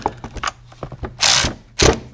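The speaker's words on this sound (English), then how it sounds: "don't forget to get that last 10mm bolt down there. Tighten that down." A ratchet clicks in short, quick bursts while tightening a 10mm bolt in the engine bay of a Lexus LS430, with a couple of louder, longer ratcheting sweeps near the end, close and clear.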